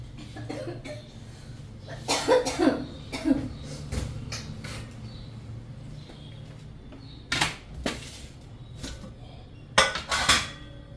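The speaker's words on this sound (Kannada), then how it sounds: "ಕೆಮ್ಮು ಬರ್ತಾ ಇದೆ" Several separate coughs at irregular intervals, some in quick pairs, with faint kitchen clatter and a low hum in between.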